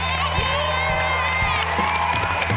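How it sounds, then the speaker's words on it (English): An audience at a wedding celebration on the Beauty and the Geek Australia finale bursts into loud, sustained cheering, whooping and clapping, close and full, with excited voices shouting over music. "How about a big round of applause for all of our beauties and geeks?"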